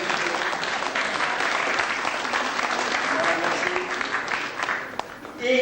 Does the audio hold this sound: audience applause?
yes